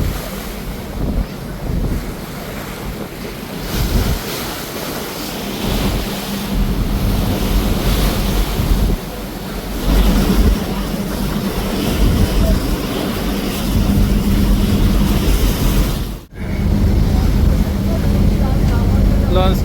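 Steady rushing of water and wind against the Doyel Pakhi-10 passenger launch moving on a rough river toward Dhaka, with a low engine hum underneath, continuous throughout and briefly cut by a short dropout.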